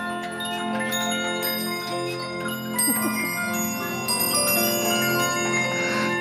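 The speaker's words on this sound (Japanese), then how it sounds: "100年以上前のアンティークオルゴールとの出会い" Antique music box more than a hundred years old playing a tinkling melody of bright plucked metal comb notes with a steady mechanical tick underneath, moderately quiet, with a brief voice in the background.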